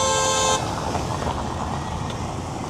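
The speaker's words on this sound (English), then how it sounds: "I don't know who they were honking at" A car horn blares loudly in downtown Winter Garden traffic, one sustained honk lasting about half a second before giving way to a steady wash of road noise.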